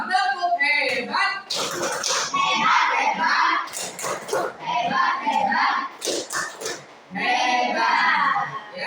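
A primary school class performing a rhythmic "tepuk hebat" clapping routine, bursts of patterned hand claps mixed with children chanting along and a teacher's voice.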